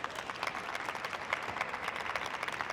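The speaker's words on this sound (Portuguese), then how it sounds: "Uma salva de palmas" An audience at a motivational talk gives a round of applause, brisk uneven clapping from a moderate crowd, heard for a few seconds without speech.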